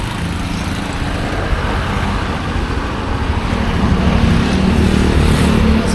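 Motorized tricycle engine running amid street traffic, a continuous loud rumbling drone with broadband road noise that grows slightly heavier toward the end, no voices.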